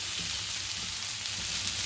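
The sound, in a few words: stuffed brinjal and potatoes sautéing in a pan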